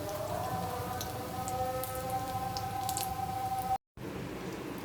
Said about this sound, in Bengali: এভাবে আমি সবগুলো রোল ব্রাউন করে ভেজে নেব।